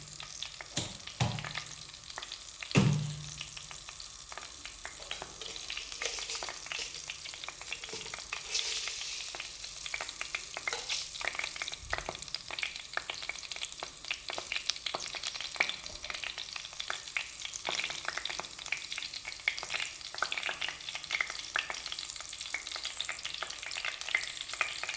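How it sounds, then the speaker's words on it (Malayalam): Mustard seeds crackle and pop in hot oil for a fish head curry, a steady sizzle dotted with sharp irregular pops, fairly soft and close, with an occasional stir and no talking. "നമ്മുടെ കടുക് പൊട്ടിത്തുടങ്ങി"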